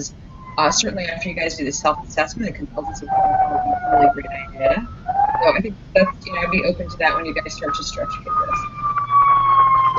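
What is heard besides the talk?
siren passing outside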